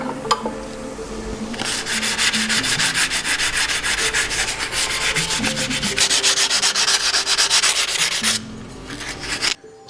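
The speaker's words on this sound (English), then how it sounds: "So this is my polisher. It's a 3-phase unit." An old, heavy-duty 3-phase polisher buffs fresh, uncut auto body dollies with a steady, loud rubbing and grinding hiss that runs for several seconds and then winds down, with no talking.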